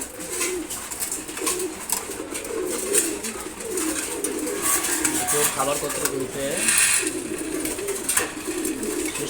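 Pigeons coo continuously in a pigeon farm housing Bengali breeds such as mud-coloured and friendly pet birds, a dense overlapping murmur with someone talking over it.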